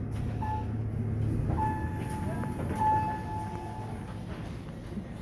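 A steady low mechanical hum of an original traction elevator motor running in a Costa Mesa mall, with faint whining tones rising and falling over a constant rumble.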